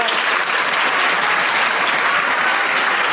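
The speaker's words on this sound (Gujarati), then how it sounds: "એટલે તાળી તો પાડો." A classroom of children claps together for a correct answer, steady loud applause close by that holds at one level for several seconds without talk.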